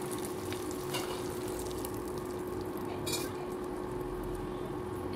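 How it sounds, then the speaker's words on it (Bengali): Bay leaf, dried chili, cumin and mustard paste sizzle quietly and steadily in hot oil in a pan, with a brief utensil clink midway. "তো এখন আমি দিয়ে দিব গরম তেলে তেজপাতা, শুকনো মরিচ, পরিমাণ মতো জিরা, সরিষা বাটা"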